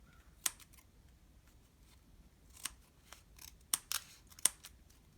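Scissors snip paper while trimming a papercraft accordion toy, in a handful of sharp, close cuts, spaced irregularly with quiet pauses between them, over a faint low hum.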